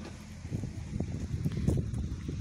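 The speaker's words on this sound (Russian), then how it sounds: "Ветер. Плохо, наверное, будет слышно." Wind buffets an outdoor microphone near a roadside spring, a steady low rumbling roar that runs through the whole stretch with uneven gusty swells and no clear voices.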